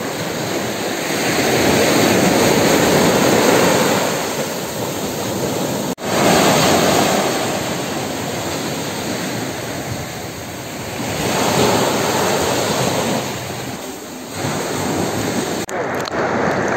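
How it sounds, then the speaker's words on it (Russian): Ocean waves roll onto a sandy beach in Zanzibar, a loud, continuous roar of surf that swells and eases in slow surges, mixed with buffeting wind on the microphone. "Вот он, океан."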